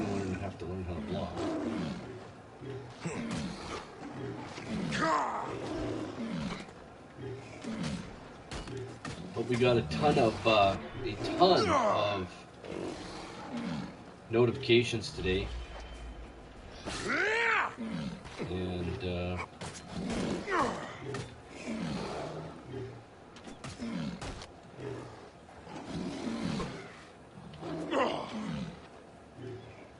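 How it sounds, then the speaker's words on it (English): A lion roars repeatedly while fighting a hippo in a video game, with growls and snarls rising and falling in bursts as someone talks casually over the action throughout. "Lion's fighting a hippo."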